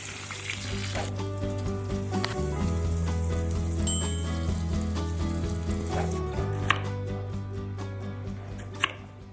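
Pieces of chicken fry in hot oil with a constant crackling sizzle, close by, with a low hum beneath and an occasional faint clink.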